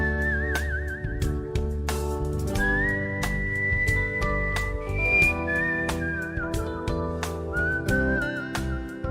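A man whistles a wavering, sliding melody over a full band with steady bass and percussion on a live variety show, the whistle loud and continuous through the piece.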